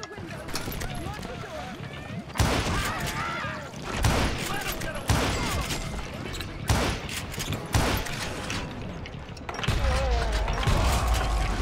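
Gunfire in the western shooter game Call of Juarez Gunslinger, repeated sharp shot bursts at irregular intervals over game sounds, with a person talking throughout.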